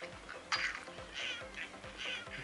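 Cartoonish bird squawks and caws from Angry Birds play on a Ninetology Palette i5300 phone, three quick calls over a faint, low background hum.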